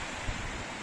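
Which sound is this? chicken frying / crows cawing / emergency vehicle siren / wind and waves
wind and waves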